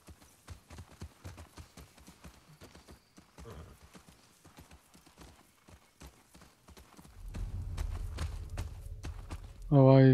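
Steady clip-clop of horse hooves walking in the video game The Last of Us Part II, fairly quiet, rising into a louder rumbling gallop near the end.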